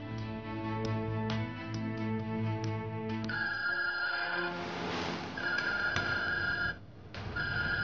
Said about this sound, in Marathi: हा फोन का उचलत नाहीये?